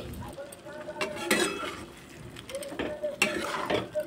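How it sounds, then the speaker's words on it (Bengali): A utensil stirs and scrapes in a pan of potato curry mixed with ground fried spice paste, soft repeated clinks and scrapes at close range, moderately quiet, no voices. "ভেজে বেটে রাখা মশলাটা দিয়ে একটু নাড়াচাড়া করে নিলাম।"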